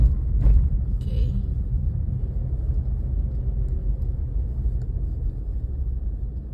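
Car creeping slowly through a Canadian blizzard: a steady low rumble of engine and tyres on snow, with a brief knock early on and no voices.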